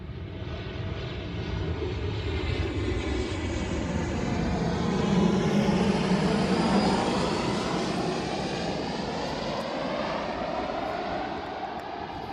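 A low-flying airplane passes overhead under the flight path near Schiphol Airport at Aalsmeer, its broad engine roar swelling steadily, peaking midway and lingering as it moves on, with no talk over it.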